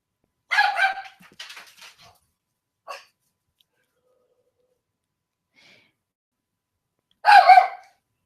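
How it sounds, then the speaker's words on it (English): A few sharp dog barks, close by, with quiet gaps between them and one final loud bark near the end. "Sorry about the dogs."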